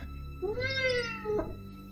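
A large black cat meows on a house roof at night, a single drawn-out, rising then falling meow with a short trailing note, close and clear over a low background hum.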